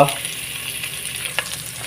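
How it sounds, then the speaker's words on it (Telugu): Chopped onion and green chili sizzle in hot tempering oil for a South Indian beetroot fry, a steady close frying hiss with a brief stirring scrape partway through. "పోపు కొంచెం బాయిల్డ్ అయిన తర్వాత ఇవి ఆనియన్ అండ్ గ్రీన్ మిర్చి వేయాలి"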